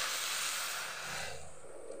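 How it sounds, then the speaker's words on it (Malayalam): Boiling salted water hisses and steams as it is poured over ghee rice in a pot, a steady loud rush that slowly eases, with no talking. "അപ്പോൾ തീ ഇച്ചിരി കുറച്ചിട്ട് വെള്ളം കിടന്ന് തിളയ്ക്കുന്നതാണ്."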